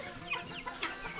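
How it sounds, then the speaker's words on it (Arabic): Fayoumi chickens cluck in a few short bursts, fairly faint, with soft background noise between calls. "دي فراخ فيومي"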